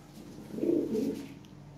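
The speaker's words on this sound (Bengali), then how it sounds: "অনেক কবুতর আছে।" White Lahore pigeons cooing in a loft, a soft low rolling coo that swells after a quiet start and runs in two close phrases before fading, heard alone without talk.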